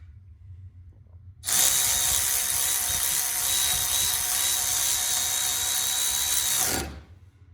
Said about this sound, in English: it ratchets all the way around, just like a regular ratchet does